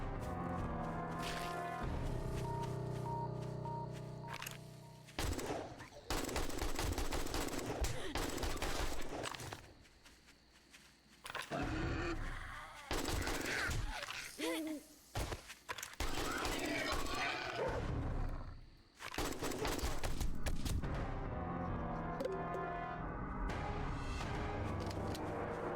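Gunfire from a weapon in the video game 7 Days To Die: loud, dense bursts of shots and game action sounds filling most of the stretch, with brief lulls between volleys and a player talking over them.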